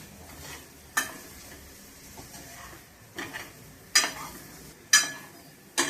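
Vegetable curry for Bhogi frying in a pan, a quiet sizzle under a few crisp, spaced spatula scrapes and stirs against the pan, close and alone.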